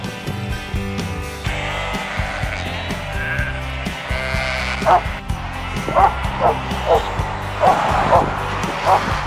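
Several sheep bleat repeatedly on New Zealand's South Island, close and overlapping, with a busy mix of voices and other noise beneath them.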